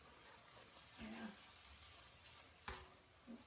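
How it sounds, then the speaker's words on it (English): Ground meat and vegetables for an egg roll in a bowl sizzle steadily as they fry in a pan, a soft continuous hiss with a couple of brief stirring knocks, no talking. "Everything's sizzling."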